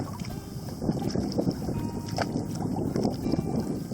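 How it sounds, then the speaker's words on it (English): A canoe is paddled hard across a lake in the Boundary Waters in fall, soft rhythmic water swishes and gurgles repeating under steady wind noise, close and fairly quiet. "hard paddle."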